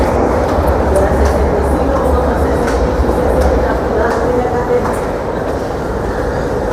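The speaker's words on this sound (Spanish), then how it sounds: "es así como llegan los trenes de un lado" A São Paulo metro train pulls into the platform, filling the station with a loud, continuous rumble and rattle of rail cars that holds steady throughout, close and dominant.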